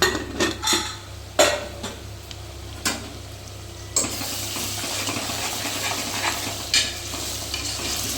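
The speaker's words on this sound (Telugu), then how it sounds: "అల్లం మంచిగా వేగింది" Ginger frying in oil in a pan, a continuous sizzle broken by several sharp scrapes and clinks of a ladle stirring, close and fairly loud, with no talking.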